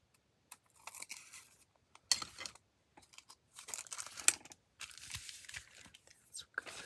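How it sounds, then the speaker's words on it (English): Scissors trimming a paper junk mail envelope, heard close up as intermittent dry snips and paper rustles in short bursts separated by quiet gaps. "I'm gonna just take my scissors and trim it."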